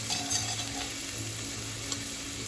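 Garlic and onion sizzling in a pan with a little olive oil, a steady soft frying hiss with faint scrapes of stirring, fairly quiet and continuous with no talking.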